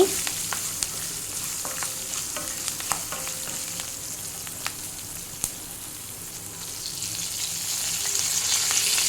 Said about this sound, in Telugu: పచ్చిమిర్చి వేగిన తర్వాత కరివేపాకు వేయాలి